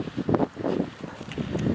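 Strong gusting wind roars across a frozen lake during a blizzard on a splake ice-fishing trip, a rough, low buffeting rush with uneven surges and no clear voices.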